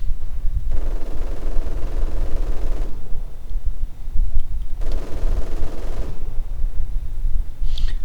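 An MG42 machine gun fires in Company of Heroes 2, with two long sustained bursts of rapid, loud rattling that carry over constant battlefield rumble, alone with no talk.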